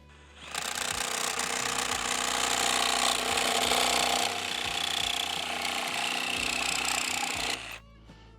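A Makita brushless jigsaw cuts through a thin aluminum sheet at a low speed setting, giving a continuous loud, harsh, rattling buzz for about seven seconds that stops abruptly, heard up close with no talking.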